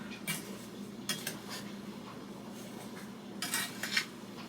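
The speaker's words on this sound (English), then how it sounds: "Now we're just gonna stir it all together." A spoon stirs strawberry rhubarb jam mixture with lemon juice in a bowl, giving quiet intermittent clinks and scrapes against the sides, close and unaccompanied by talk.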